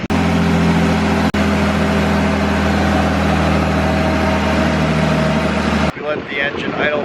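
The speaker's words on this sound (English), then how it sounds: "We let the engine idle for a good 5 minutes to cool down the turbocharger" A turbocharged engine idles to cool down, holding a loud, steady, low hum for several seconds before cutting off abruptly, after which a person starts talking.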